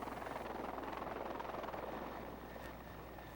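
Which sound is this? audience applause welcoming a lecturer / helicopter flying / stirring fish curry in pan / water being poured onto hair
helicopter flying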